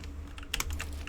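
A short burst of keystrokes on a cheap computer keyboard, a few quick plastic clicks clustered together over a steady low background hum.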